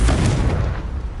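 A loud, booming Confringo spell blast from the game Hogwarts Legacy, one heavy explosion that rumbles and slowly fades over about a second.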